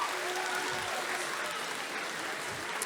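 Audience applause at a cosplay contest, a dense, steady wash of clapping that fills the whole stretch at an even level, with a faint tonal whistle drifting through early on.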